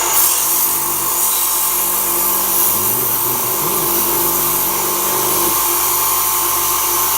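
A custom-made rock cutter and polisher wheel runs steadily with a loud, continuous whirring grind, its pitch wavering slightly midway through before settling again.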